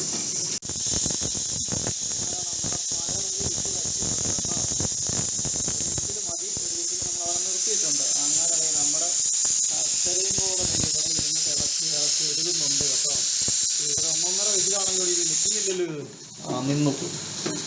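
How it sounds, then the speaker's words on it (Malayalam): Jaggery melting and boiling in a pan on a stove while making Kerala sughiyan snacks gives a steady close bubbling hiss throughout, with a voice speaking over it for much of the time. "ശർക്കരയും ഉരുകി നല്ല തിളച്ച് നല്ല പരുവായിട്ടുണ്ട് കേട്ടോ"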